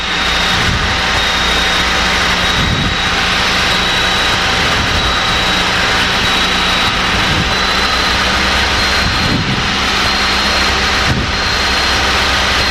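Light aircraft engine droning steadily and loudly from inside the cabin during a right-hand orbit near an airfield, a constant hum with faint periodic pulsing and no talk.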